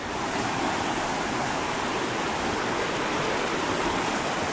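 An underground river gushes out of the ground along the Alexandra and Castleguard backcountry, making a loud, steady, close rushing roar of churning water with no voices.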